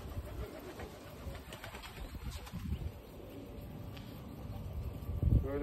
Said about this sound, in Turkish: Böyle çok güzel bir kırmızı dolapçı arkadaşlar.